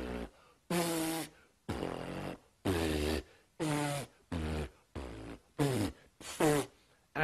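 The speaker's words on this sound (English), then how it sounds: "here's some different examples of lip buzzes you can do" A series of lip buzzes made by blowing air through tight lips, about nine separate close buzzing bursts of varying pitch, each lasting around half a second with short gaps between.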